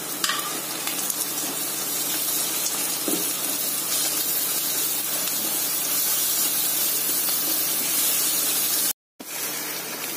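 Onions and ground masala sautéing in a pan over a low flame for Malabar chicken dum biryani give a loud, continuous sizzle and hiss throughout, briefly cutting out near the end, with no talking.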